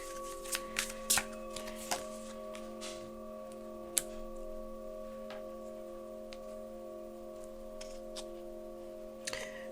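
Tarot-style deck of cards shuffled for a reading, a quiet, close riffling with scattered sharp flicks and taps spread across several seconds, over a steady background hum and no talking.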